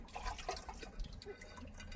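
Thin water trickling from a barely opened shower tap in a camper van, a faint uneven splash and drip close by with no talk.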